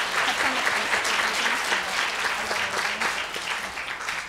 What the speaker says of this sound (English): You guys want to raise your hands so we can give you a round of applause?